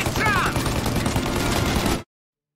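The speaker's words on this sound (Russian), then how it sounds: "Опа, они стреляют." Heavy gunfire in Mafia: Definitive Edition comes as a dense, continuous volley of shots. It is loud and close for about two seconds, then cuts off abruptly into silence.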